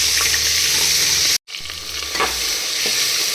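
Ginger garlic paste sizzles steadily in a hot pan alongside mint, coriander and peas, with stirring scrapes throughout and a brief silent break in the middle.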